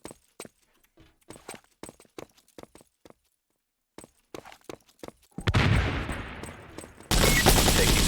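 A run of sparse clicks and taps in a True Combat: Elite match gives way to a loud burst of rapid gunfire, which breaks off and then resumes dense and loud at the end.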